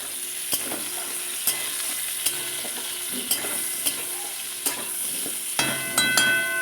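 Vegetable stalks frying in hot oil give a steady sizzle, broken by regular scraping knocks of a spatula as they are stirred in the pan.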